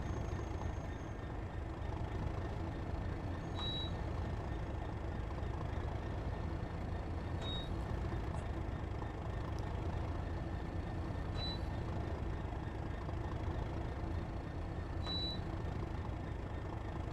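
Freight train air brakes release in a Train Sim World simulation, a steady broad hiss running throughout with faint intermittent cab beeps, no talk over it.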